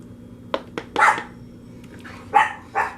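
A household dog barks several times indoors, sharp separate barks at moderate distance against a low steady hum, with no talk over them.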